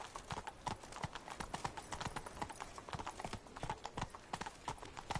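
Roach, the horse in The Witcher 3 video game, trotting with a quick, steady clip-clop of hooves, close and even in rhythm throughout, with no talking over it.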